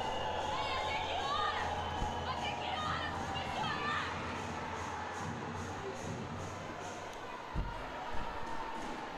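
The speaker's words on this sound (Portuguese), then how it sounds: "Torcida cada vez mais pega no pé." Crowd at a women's futsal final in overtime, a steady broad roar of spectators with scattered shouts and whistles, a sharp thud near the end, continuous throughout.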